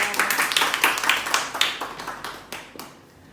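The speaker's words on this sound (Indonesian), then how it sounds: "Berikan aplaus untuk teman kita" Classmates clap together for a student after a practicum presentation, a brisk burst of many hands that fades out over about three seconds.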